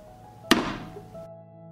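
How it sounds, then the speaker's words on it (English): A single sharp, close knock as a pot of water with jars is set down on a stove, followed by a short ringing decay before quiet. "I put the pan on the stove"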